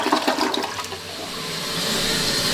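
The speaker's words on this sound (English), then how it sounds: "Here's the test to make sure there's no leaks or anything with the toilet." A newly installed household toilet flushes as a test after repair, a loud close rush of swirling water that settles into a steady hiss as the tank refills.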